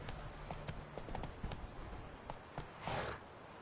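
Horse hooves clip-clopping in the video game Witcher 3, a fast rhythmic run of close hoofbeats with a brief whinny-like swell near the end.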